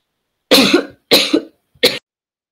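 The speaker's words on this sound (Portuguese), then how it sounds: "Daqui a pouco eu começo a tossir, aí eu desligo o microfone um pouquinho" Three close, loud coughs come in quick succession from a woman at a microphone, each a harsh burst followed by a short silence, with no speech around them.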